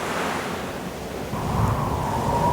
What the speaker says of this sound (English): a wild wind stirred the waves up, tall and stormy